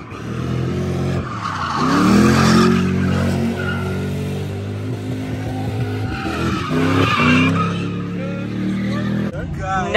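Car skidding hard with loud, sustained tire squeal at a street takeover, a long screech swelling and fading over engine roar while excited spectators shout and talk throughout.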